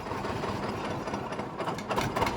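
A John Deere 730 diesel tractor idles nearby with a steady, knocking low rumble, the uneven chugging holding constant before slight flutters near the end.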